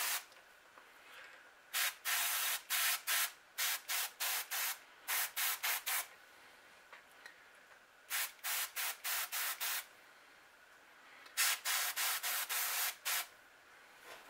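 A spray can painting a crankbait lure through a stencil, giving short, loud hissing bursts in quick clusters with brief pauses between them, close and alone.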